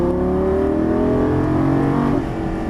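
A Lamborghini Gallardo LP550 accelerating on a track, its engine producing a loud, close, sustained roar with a rising pitch. The sound eases off toward the end.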